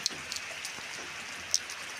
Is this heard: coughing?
no